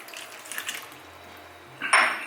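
Two-thirds of a cup of water pours into biscuit mix in a bowl during cheddar biscuit prep, a short splashy pour near the mic after light clinks of kitchenware.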